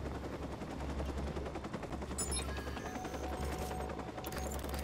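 Gunfire in the Watch Dogs video game while taking out a sniper: a steady, dense automatic rattle runs throughout with a deep rumble underneath and some faint electronic tones layered on top.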